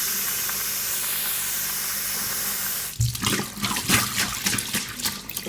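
Water runs steadily from a kitchen tap for a few seconds, then China Rose radish seeds are rinsed under it with splashing, sloshing bursts, close and fairly loud with no talking.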